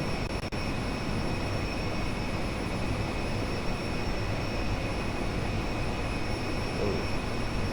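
Learjet 45 jet engines roar during takeoff in a flight simulator, a steady broadband rush with a sustained high whine, constant and fairly loud throughout with no talking.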